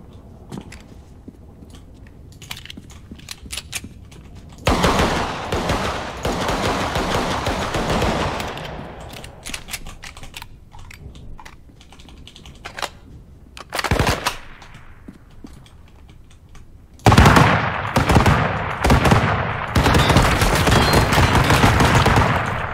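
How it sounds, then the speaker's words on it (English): Bursts of rapid submachine gun fire in the battle royale video game Fractured Lands, loud and close, coming in long sustained volleys separated by quieter gaps and a few short single shots, with no talking. "Oh, this is a submachine gun. I thought. Okay, so I was thinking this was an AR."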